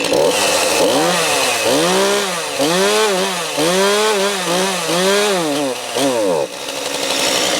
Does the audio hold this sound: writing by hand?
no